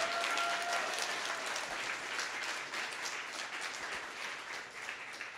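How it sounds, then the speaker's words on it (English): Steady applause from a crowd, loud at first and easing slightly over several seconds, with no talking. "Thank you all for coming, and please give a huge round of applause to GitHub, Kelsey, and Drew for hosting."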